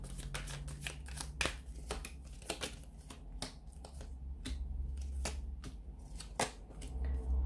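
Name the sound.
shuffling cards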